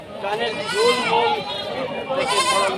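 Goats bleat repeatedly at a goat market in Rustampur, Rajshahi, where local and Beetal goats are sold; the wavering calls come close and loud, overlapping with people talking nearby.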